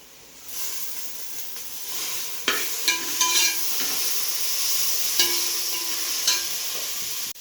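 Onions and mint leaves sauté in a hot pan for a veg biryani, a steady sizzle and hiss broken by several scraping stirs, close and fairly loud, with no talking.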